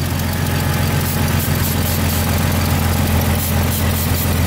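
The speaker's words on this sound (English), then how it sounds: "I do apologize, it's super loud, but the engine seems to be running okay right now" A Jeep engine, loud and close, runs steadily after a shot of starter fluid, giving a constant rough idling drone with rattling vibration and no speech.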